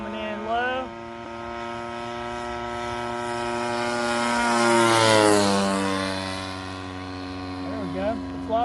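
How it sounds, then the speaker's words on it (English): A Great Planes 50cc Revolver RC airplane flying at half throttle, its gas engine a steady buzzing drone that swells and shifts pitch as it passes nearby and then recedes, with a voice talking over it. "Cruising around at about half throttle."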